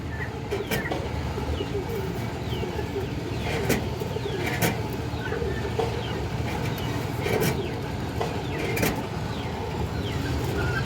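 Tota-shaped pigeons cooing in a pigeon market, soft repeated coos among busy background noise and scattered sharp knocks, no voices.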